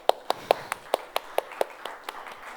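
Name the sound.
applause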